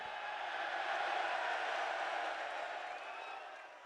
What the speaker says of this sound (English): The crowd's that loud